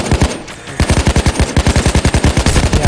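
Automatic gunfire in the video game Payday 2, a brief opening burst then a rapid, evenly spaced run of loud close shots lasting a couple of seconds.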